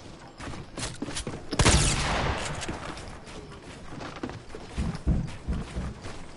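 Rapid bursts of gunfire and shotgun blasts in a video game match with sniper fire, dense and continuous, with one loud close blast amid steady distant shooting.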